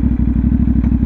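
A CFMoto 450MT adventure motorcycle engine revs with a steady, rapid low throb of close, loud exhaust pulses, with no talk.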